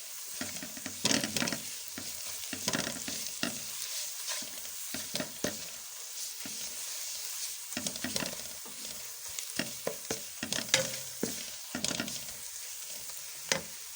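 Mixed vegetables frying on a tawa with red chilli, salt, turmeric, cumin and ground coriander stirred in, a soft continuous sizzle broken by repeated scraping strokes of the spoon, close and fairly quiet.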